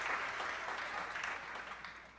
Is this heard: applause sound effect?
yes